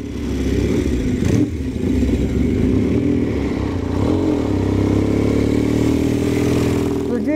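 A 1953 Matchless G45 500cc twin production race motorcycle runs loudly nearby, its engine a steady throbbing drone with a brief rise near the start, under someone talking throughout.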